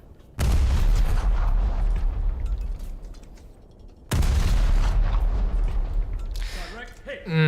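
Naval guns fire in a video game as shells strike a target ship: two loud, heavy booms a few seconds apart, each followed by a long rumbling roar that slowly fades, with a voice briefly audible near the end.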